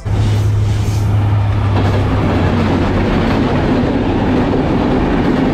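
Benapole Express, a Bangladeshi intercity train from Dhaka toward Jessore, rolls along in a loud, steady rumble with a low drone and faint rail clatter, continuous and close throughout.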